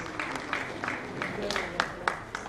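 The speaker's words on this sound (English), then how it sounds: "Can we please give him a round of applause" Scattered, fairly steady hand claps from a modest audience at a green assembly event greet a Civil Defense Corps representative as he comes up to speak, with a few sharper claps standing out.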